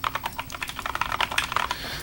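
Rapid typing on a split computer keyboard, a close, busy stream of crisp key clicks at an uneven fast rhythm, heard alone without talk.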